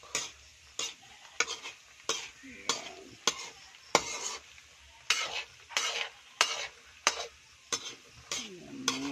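Peanuts roasting in a pan over a wood fire, with repeated scraping stirs at a steady rhythm over a soft background sizzle.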